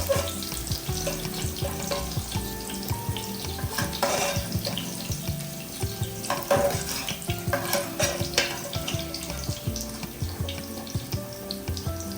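Mixed vegetables shallow frying in oil for a home-cooked veg biryani, a steady close sizzle and crackle with occasional stirring scrapes and clinks throughout, no talking.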